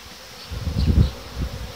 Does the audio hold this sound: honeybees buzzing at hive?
yes